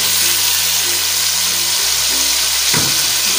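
Boneless chicken frying in a pan as chopped onions and other ingredients go in, a dense close sizzle with a sudden burst and scrape as something is tipped in near the end.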